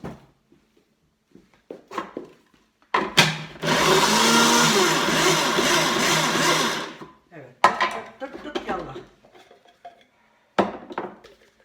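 A small electric kitchen chopper, a home appliance more than twenty years old, whirs loudly for about four seconds as it chops onions, with someone talking before and after.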